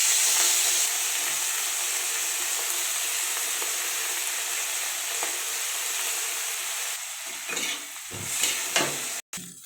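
Prawn heads fry in a wok with garlic, dried red chili and black cumin, giving a steady, close sizzle that holds for several seconds before fading into a few clatters and stirring knocks near the end.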